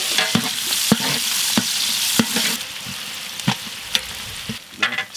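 Sliced onion frying in hot oil with cinnamon, cloves and cardamom for a chicken maqlooba, a loud continuous sizzle broken by repeated scraping stirs of a spatula against the pan.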